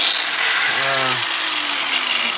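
A GRAFF diamond disc on an angle grinder cuts through a steel gas cylinder, giving a loud, steady, harsh grinding whine with a brief lower motor tone partway through.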